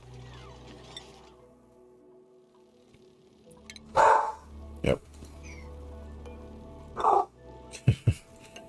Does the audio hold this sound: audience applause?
no